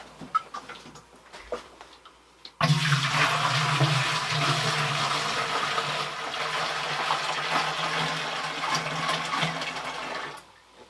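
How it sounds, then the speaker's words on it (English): After a few soft knocks, cold water suddenly gushes and splashes steadily into a laundry bucket for several seconds, then cuts off. "I'm going to add some cold water as well."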